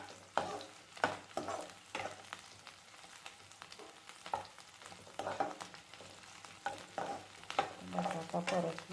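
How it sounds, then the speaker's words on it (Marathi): A boiled potato is sautéed in a pan for sabudana khichdi, with irregular spoon-stirring scrapes over a soft, close sizzle. "बटाटा परतला।"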